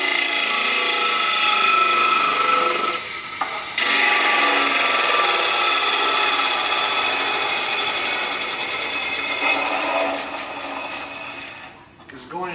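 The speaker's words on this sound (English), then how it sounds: "It'll take at least 5 minutes for it to spool down, but I'll just slow it down with the bearing rate." An APEX 16-inch disc sander, model 16-D, winds down after being switched off, its loud, dense whirring motor and bearing drone fading gradually with a brief dip partway through, the only sound present.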